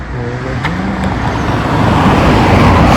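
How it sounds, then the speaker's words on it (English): A car approaching along a street, engine and tyre rumble growing steadily louder over a few seconds as it nears, no voices. "there's a car coming up"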